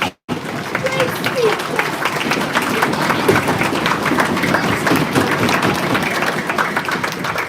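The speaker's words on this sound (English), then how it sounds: "Let's have a big round of applause for Darren" Banquet audience clapping together in a hall, a dense, sustained round of applause starting abruptly after a short silence and holding steady at full strength to the end, with scattered voices mixed in.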